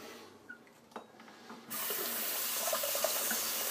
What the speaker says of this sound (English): I went ahead and I rinsed my face in warm water